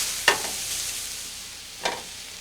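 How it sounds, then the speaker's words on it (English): Two brief stirring scrapes over a soft, continuous sizzle as mushrooms and whole garlic cloves sauté on low heat in a pan. "And stir and saute on a low heat."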